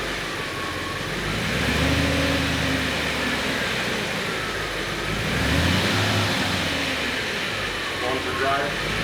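Audi S8 D2 accelerating hard and shifting up into fourth gear, a steady mid-pitched engine drone rising and dipping with the gear change, heard from inside the car with faint background noise.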